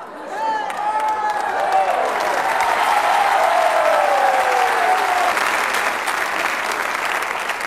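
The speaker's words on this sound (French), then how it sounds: "Vous applaudissez" A French TV show studio audience breaks into loud, sustained applause that fills the whole stretch, with a voice talking over the clapping near the start.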